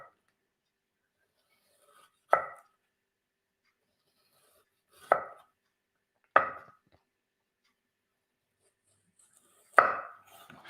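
A knife cuts fresh ginger into thin slices for julienne on a board, four sharp isolated chops spaced a couple of seconds apart with silence between, close and crisp.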